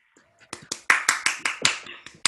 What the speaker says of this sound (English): Let's give all the winners a congratulatory round of applause.